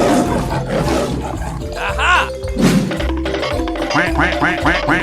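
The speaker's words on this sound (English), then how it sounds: "Lion." A lion character in a 3D animal video game lets out a loud, close roar, rising and falling over a few seconds against a busy game soundtrack, with short vocal blips.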